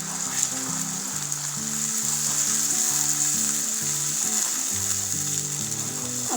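Tomato puree hisses as it goes into a pan of cooked ginger and garlic for a bottle gourd curry, a steady moderate sizzle under background music with a melodic pattern, with no one talking.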